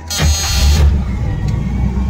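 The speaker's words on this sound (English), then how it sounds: "let me start the car" A 1976 Cadillac Seville engine catches with a brief rising rev, then settles into a low, steady idle rumble.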